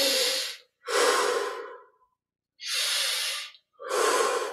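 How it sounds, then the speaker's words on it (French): Deep, forceful breaths taken during a Kriya Yoga breathing exercise alternate in a slow rhythm: four long, airy inhales and exhales separated by short silences, close and loud. "20 respirations profondes."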